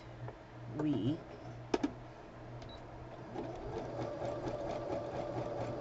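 Sewing machine stitching a patchwork tablecloth, a low steady whir that builds and runs continuously, with a couple of sharp clicks and a voice speaking over it near the start.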